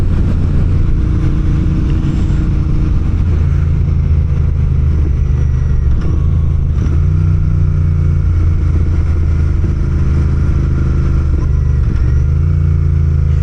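A motorcycle engine runs steadily while riding, loud and close throughout, with a droning low hum that swells slightly as the rider accelerates.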